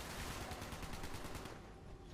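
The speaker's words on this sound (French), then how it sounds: "C'est qui a tiré sur le robot?" Rapid gunfire in the online game Fallout 76, fired at a robot, makes a dense burst of repeated shots that fills the whole moment, loud and even, without speech.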